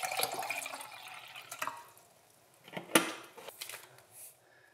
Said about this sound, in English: First goes in some water.